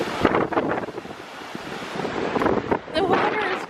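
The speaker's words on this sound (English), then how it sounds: "The water is rushing." Rushing water near Skagway, Alaska, a steady broadband roar mixed with buffeting wind on the microphone, continuous and fairly loud, with faint voices beneath.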